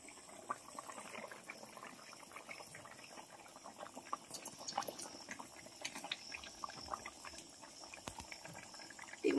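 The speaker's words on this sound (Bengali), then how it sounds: "তরকারি কিন্তু ফুটে উঠেছে" Fish curry bubbling at a steady boil in a pot in a home kitchen, a faint, continuous simmering hiss with small pops and no voices.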